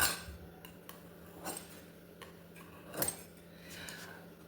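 Several short scraping knife cuts through dough on a board at an unhurried pace, close and fairly quiet, with faint clinks of metal in between.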